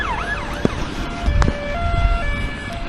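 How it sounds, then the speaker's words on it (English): Police car sirens wail outside as they pass, with a rising and falling tone up front that settles into steadier held pitches, under faint road noise and without any talking. "I've got police with sirens, but another one, another 2."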